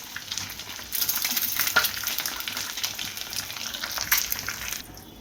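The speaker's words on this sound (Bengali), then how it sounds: "এভাবে আমি ডিমগুলো সব উল্টায় ফ্রাই করে নিব" Eggs flipped and frying in a pan, a close, continuous spitting sizzle with crackling bursts that swells and fades, ending abruptly, with no one speaking.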